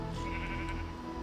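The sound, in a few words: sheep bleating in a Minecraft (Tolkiencraft) video game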